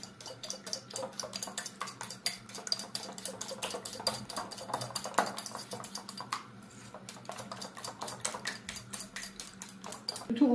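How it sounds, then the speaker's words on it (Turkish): Two eggs are beaten in a bowl, producing a fast, steady stream of light clinking taps of utensil against the bowl, close and continuous for about ten seconds, with no talking. "İki tane yumurtamızı incene çırpacağız."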